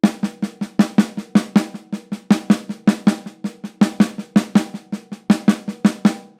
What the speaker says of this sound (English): let's accent the first of the group and the last of the group. Keeping it on the snare drum